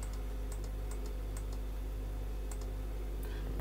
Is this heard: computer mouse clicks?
yes